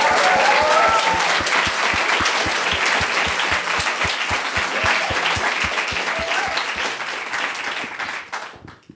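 Loud, sustained applause from an audience at a youth hackathon event in Linz, Austria, dense clapping filling the room before gradually thinning and dying out at the end.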